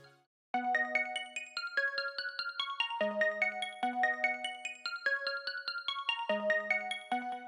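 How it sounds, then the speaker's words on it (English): A bright synth plugin plays an imported MIDI melody, crisp bell-like plucked notes in a quick repeating pattern over a few bars, clear and alone with no talking. "I have just imported the MIDI to a plug which sounds very bright, and it came out sounding like this."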